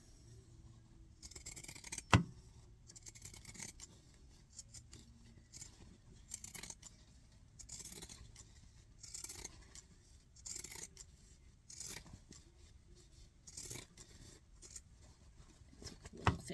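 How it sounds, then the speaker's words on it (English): Close, quiet snipping of pinking shears through fabric for a bucket hat, a series of crisp chomping cuts at an uneven rhythm with soft rustling between them. "cutting it with the pinking shears"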